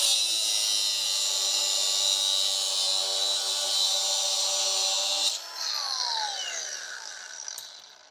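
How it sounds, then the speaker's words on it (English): A power cutting tool slices through a rusty body-mount bolt at its thin, corroded spot on an old Ford truck, a steady loud high-pitched whine that holds for about five seconds, then drops in pitch and winds down as the cut finishes. "where this thin spot is here, you want to cut this off"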